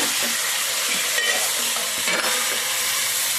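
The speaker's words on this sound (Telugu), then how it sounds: "ఇప్పుడు ఇవన్నీ చక్కగా కలుపుకుందాం" Bottle gourd pieces and tomatoes frying in a pan while being stirred, a loud continuous sizzle and hiss with the rustle and scrape of the spoon moving through the vegetables.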